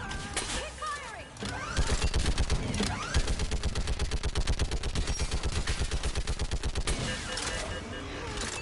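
Sustained rapid automatic gunfire in the Mass Effect 3 video game on Insanity difficulty, a fast rhythmic stream of shots lasting several seconds with scattered impacts before and after, with voices calling out amid the firing.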